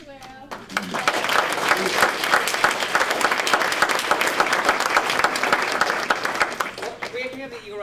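Sustained audience applause at a community dinner event, a dense wash of many hands clapping that swells in quickly and carries steadily for several seconds before tapering, with voices briefly audible at the start and end.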